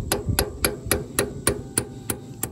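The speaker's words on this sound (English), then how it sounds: "you're gonna lightly tap. It's real light, and it'll kind of self-line up." A Ford 8N tractor overrun clutch is tapped lightly onto its splines with a hammer, giving nine even, close metallic knocks at a steady rhythm, alone without talking.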